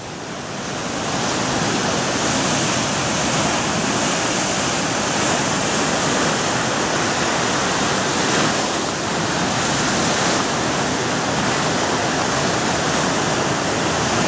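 Rough sea surf pounds against the Socoa seawall, a loud, dense, unbroken roar of crashing and churning water with no pauses, close and filling the whole scene.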